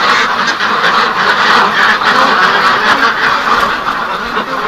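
A loud, steady chorus of quacking ducks in -34°C windchill, many birds calling at once from nearby, without any voices.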